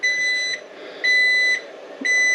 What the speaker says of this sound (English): You can hear the beeper.